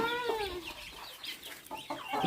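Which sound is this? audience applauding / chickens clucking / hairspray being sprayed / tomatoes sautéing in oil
chickens clucking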